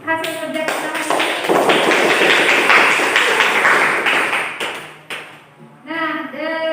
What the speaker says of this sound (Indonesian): Kita beri tepuk tangan dulu untuk hasil kerja kita hari ini.